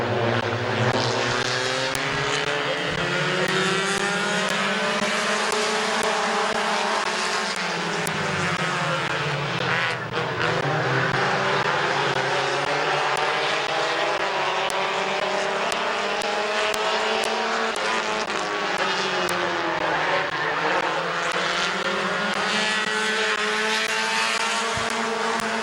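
Race cars at a dirt speedway oval run side by side down the back straightaway, a continuous loud engine roar whose pitch swells and dips as they pass, steady across the whole stretch with no talk.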